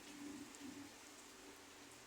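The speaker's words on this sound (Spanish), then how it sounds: "el escenario de la lluvia." Rain falling steadily outdoors onto a soft surface, a continuous broadband hiss of drops that stays even and moderately close for the whole stretch, with no voices.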